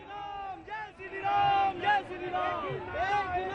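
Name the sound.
large crowd at election rally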